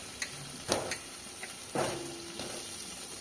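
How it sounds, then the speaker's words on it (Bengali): Potatoes frying in spiced masala for a cauliflower curry, with quiet sizzling under scattered stirring taps and scrapes of a spoon against the pan, heard close and faint with no talk. "আলুটা দিয়ে একটু ভালো করে মশলাটার সাথে কষিয়ে নেব"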